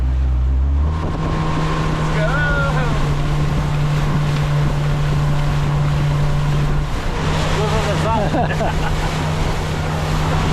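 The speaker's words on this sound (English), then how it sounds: "This boat is falling apart." A rickety, worn-out boat crossing a man-made lake at Guatapé, Colombia. Its engine gives a steady, loud low drone, with heavy wind buffeting the microphone throughout and faint voices in the background.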